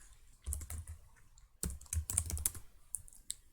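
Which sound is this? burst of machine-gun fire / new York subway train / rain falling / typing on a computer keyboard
typing on a computer keyboard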